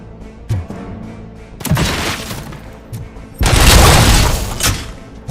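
Enemies in a video game shatter like breaking glass as they die, with loud crashing bursts around the second and the third-to-fourth-second marks over game sounds.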